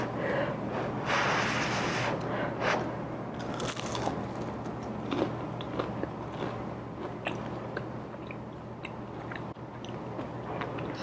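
Bites into a crispy, puffed pumpkin turnover pastry filled with sweet pumpkin and topped with cream cheese glaze, giving close, loud crunches followed by steady chewing, with no talking.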